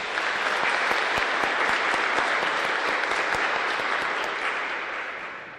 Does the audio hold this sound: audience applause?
yes